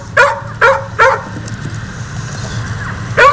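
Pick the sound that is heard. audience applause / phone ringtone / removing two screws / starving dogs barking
starving dogs barking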